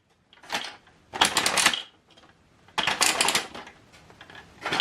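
Plastic paper tray of a Brother DCP-L3560CDW colour laser printer being pulled out and extended, giving a few close, quiet bursts of sliding, clicking plastic rattle separated by pauses.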